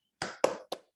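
Three quick hand claps in a tepuk semangat classroom chant, close and crisp, evenly spaced with a short pause before the last.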